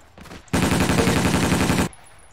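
A rapid automatic burst in the Battlefield game on the Berlin map rattles out as a long, loud, evenly spaced string of shots lasting over a second, preceded by a few fainter pops, with no talk over it.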